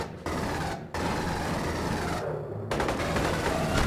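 Dense, continuous gunfire from the Aliens: Colonial Marines video game rattles loudly and up close, with two brief breaks, before resuming as a sustained burst with no talking.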